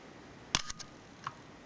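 A Pentax Spotmatic film camera fires its shutter with a sharp mechanical clack and quick follow-up clicks of the mirror and curtain, then one lighter click a moment later, close and isolated in a quiet room.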